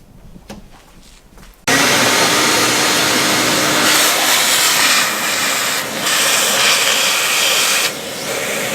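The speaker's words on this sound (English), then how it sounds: "I'm gonna get the vacuum out. I'm gonna fire up the compressor" A loud, steady roaring hiss of a vacuum cleaner and air compressor cleaning fire extinguisher residue from a Volvo 960 kicks in after a quiet moment, running continuously with slight dips near the end.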